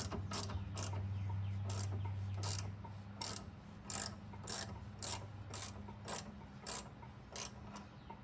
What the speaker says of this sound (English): I'm just going to torque it down to 29 foot-pounds